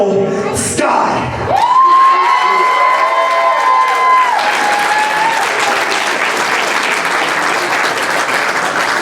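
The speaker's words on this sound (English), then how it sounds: "Give yourselves a round of applause" A live indie wrestling crowd at a Green Mountain Wrestling show in Vermont bursts into loud, sustained applause with cheers and whoops, while a sustained electronic tone sounds over the opening seconds of the dense, close roar.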